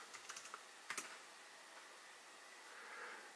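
Quick burst of keystrokes on a computer keyboard as a command is entered into a drone's configuration CLI, a few light clicks followed by a short cluster of taps, then near silence, faint and close.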